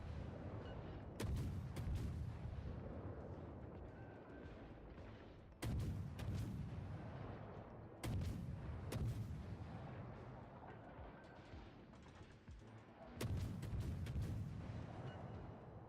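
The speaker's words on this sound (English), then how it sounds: "I can't believe how much the guns are missing at point blank range." Heavy warship guns fire in World of Warships at point-blank range, four loud booming salvos spaced several seconds apart, each trailing off into a rumbling decay.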